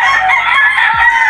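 A gamecock rooster being conditioned for an upcoming cockfight crows once, loud and close, with a bright, strained call held for just over a second and no other sound around it.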